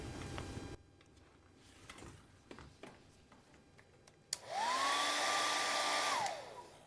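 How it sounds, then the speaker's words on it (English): A few soft taps and clicks, then a hair dryer switches on and roars loudly and steadily for about two seconds to dry acrylic paint, its whine rising at start-up and fading as it shuts off. "I'll take a hairdryer and I'll speed this up"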